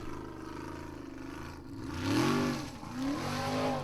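A Formula Offroad buggy's engine revs hard at full throttle on a steep hill climb at a world cup event, a rising and falling high-pitched roar that surges louder in the second half, heard from a distance.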